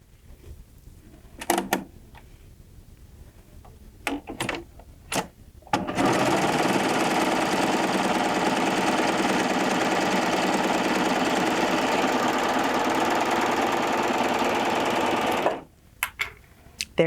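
A Baby Lock Triumph serger stitches fabric in one long steady run of about ten seconds, its rapid mechanical whir loud and continuous, with a few short clicks and handling taps before and after.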